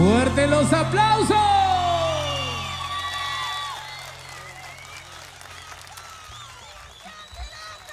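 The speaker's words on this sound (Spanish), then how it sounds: "¡Fuerte los aplausos!" Festival audience in Río Gallegos applauds and cheers with a few whoops, loud at first and slowly fading, while a voice sings over the crowd.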